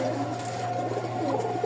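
A Rajshahi Giribaj pigeon cooing nearby, a soft low throaty coo over a steady background hum, brief and without speech.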